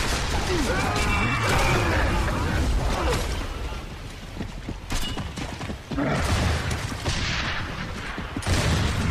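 Gunshots ring out in an online shooter game, dense loud cracks and clatter in several bursts, mixed with busy game noise and a voice talking over them.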